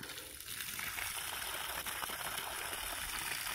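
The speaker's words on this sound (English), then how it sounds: "You can see here, you just open and the water comes out." Water gushes steadily from an opened irrigation hydrant on a coffee plantation, a continuous broadband rush that stays loud and close for the whole stretch with no talking over it.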